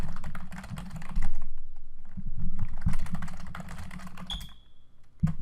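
Password typed on a computer keyboard: rapid, close clicking keystrokes in uneven bursts, a short pause midway, then a final firm key press like Enter.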